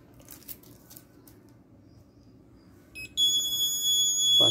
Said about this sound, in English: Passport not verified. Alarm should be on.